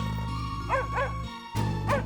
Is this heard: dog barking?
yes